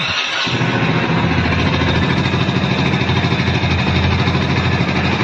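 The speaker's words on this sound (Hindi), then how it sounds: "मैं सबसे पहले इसकी चाबी को ऑन करता हूं और बाइक को स्टार्ट करके दिखाता हूं।" A Hero Splendor BS6 motorcycle engine cranks briefly and catches, then settles into a steady, close, loud idle with an even chugging rhythm throughout.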